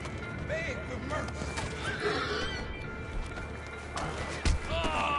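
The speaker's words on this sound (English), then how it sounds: "And my horse is not coming. Come on, horse." A horse whinnies repeatedly while hooves clip-clop underneath, over a busy Red Dead Online game soundscape with a person talking.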